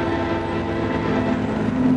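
A freight train loaded mostly with tractors rumbles past close by, a steady loud roar with a sustained tonal hum throughout.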